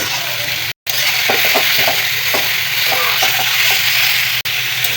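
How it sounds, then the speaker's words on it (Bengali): Boiled young jackfruit fries in a pan with salt and turmeric, giving a steady loud sizzle broken by repeated scraping stirs and one brief dropout. "কিছু সময় এভাবে কাঁঠালটা খুব ভালো করে ভাজি করে নেব"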